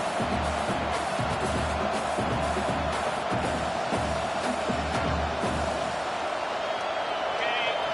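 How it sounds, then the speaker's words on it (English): A football stadium crowd in a college football video game, Oregon versus Oklahoma, gives a steady roar of cheering that swells slightly. It stays underneath continuous play-by-play commentary. "this crowd is turning it up a notch"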